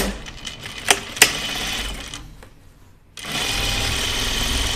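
A sewing machine stitching a dress runs with a steady mechanical whir and a couple of sharp clicks, pauses almost to silence, then starts again at full speed, close and continuous.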